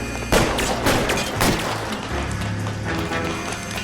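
Gunfire in L.A. Noire, a few sharp loud shots over a noisy background, with heavy impacts near the start and middle.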